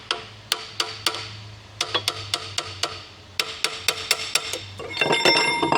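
Sharp metallic taps from a hammer striking a stuck brass part in a Caterpillar D10T final drive, repeated in quick regular bursts with short pauses, followed by a clattering rattle at the end.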